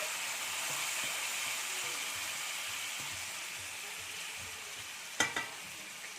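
Eggplant and tomato cooking together in a pan over high gas produce a low, even sizzle, then near the end a sharp metallic clatter comes from a spatula striking the pan.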